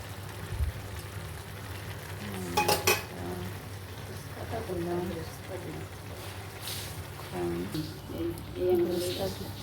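Cooked meat is tipped into a pot of partly cooked rice while making kacchi biryani, producing clanks of a metal pot and utensils and soft sliding sounds, with a person talking throughout.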